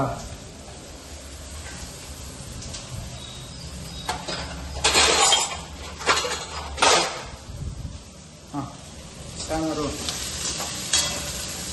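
Green chilli chicken frying in a pan, a sizzling hiss broken by bursts of scraping as a spoon stirs it, with a few louder stirring strokes in the middle and talk heard alongside.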